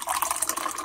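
Warm water is poured into a cup in a short, close, steady trickle for a turmeric drink.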